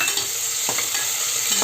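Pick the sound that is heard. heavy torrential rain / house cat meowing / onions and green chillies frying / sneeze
onions and green chillies frying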